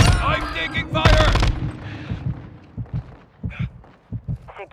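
Rapid bursts of automatic gunfire in a Call of Duty Modern Warfare II Ground War match open loud and dense, then give way to scattered, thudding shots and impacts.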